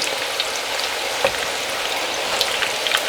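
Kebabs fry in a hot pan, a steady, loud, close sizzle with faint crackles and pops throughout, left undisturbed and with no voices.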